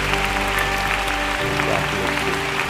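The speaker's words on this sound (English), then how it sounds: "Let's give them a great clap." A church congregation applauds over sustained organ-like music, the clapping a steady dense patter at moderate level with no distinct individual claps.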